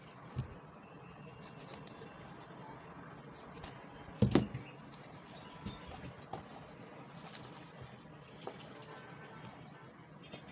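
Scissors trim Ankara fabric for a gummy purse: quiet, sporadic snips, with one louder cluster of cuts partway through.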